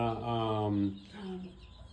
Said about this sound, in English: God blessed us with these here wonderful, beautiful chickens.